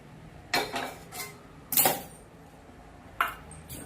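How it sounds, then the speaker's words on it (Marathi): Roasted urad dal being scooped out of a pan, with a few sharp metallic clanks and scrapes of a spoon on metal, spaced apart, close and fairly loud against a quiet background. "आपली उडदाची डाळ पण भाजून झालेली आहे ती आपण काढून घेऊया"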